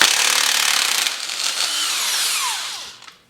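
A Milwaukee power tool spins up loudly to remove a motorcycle's rear axle on a Yamaha YZ125 two-stroke, a dense whining buzz that holds steady for about three seconds, then winds down with a falling pitch and stops.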